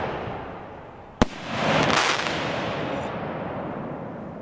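A sharp mortar firework crack followed by a hissing, crackling burst that lingers and slowly trails off, heard from a moderate distance in front of a palace at night.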